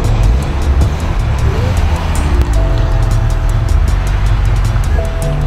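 A 2009 BMW M5 E60 with a 500-hp V10 and six-speed gearbox drives along, a loud steady engine drone inside the cabin with shifting tonal whine rising and settling as it moves.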